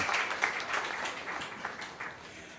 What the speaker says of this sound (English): a round of applause to all the young people here to celebrate, congratulate, and catalyze them.